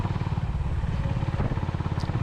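A Honda Hness CB350 motorcycle rides on winding mountain ghat roads, its engine a steady, close, low throbbing pulse continuing without a break, with no speech.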